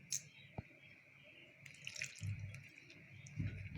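Water poured into gram flour (besan) batter seasoned with salt as it is stirred, giving soft intermittent splashing and wet mixing sounds that grow busier toward the end, close and moderately quiet.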